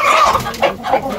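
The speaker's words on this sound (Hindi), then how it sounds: "दानियाल को मारने वाला था आज मुर्गा" Clucking from a rooster and other fowl, several short calls in quick succession over a busy farmyard background.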